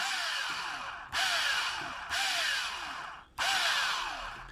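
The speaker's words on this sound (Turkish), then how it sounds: "Matkabım şu anda bana doğru dönüyor." A homemade 12-volt drill built from a scrap drill motor whirs in repeated bursts, four runs each starting with a sharp surge and slowly winding down, loud and close.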